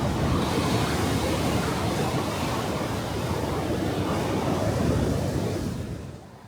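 High-tide waves rolling in on the Blackpool seafront at South Shore, a loud continuous wash of surf with wind buffeting the microphone, fading slightly at the end.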